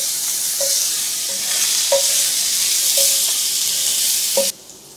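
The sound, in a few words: garlic and shallots frying in oil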